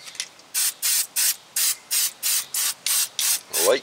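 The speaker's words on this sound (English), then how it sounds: "we'll spray all of the mating surfaces" Fluid Film aerosol sprayed onto the mating surfaces of a 2015 Honda Civic brake hub during a pad and rotor job: about ten short, even hissing bursts in a steady rhythm, close and fairly loud, with no talking.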